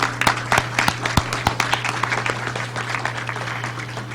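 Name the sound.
audience hand clapping for children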